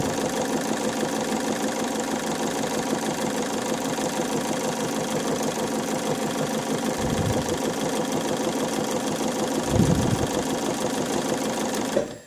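A sewing machine runs steadily at speed, stitching wavy crosshatch quilting lines with a continuous mechanical whir and fine rapid needle rhythm, near and loud, with two brief low thumps partway through.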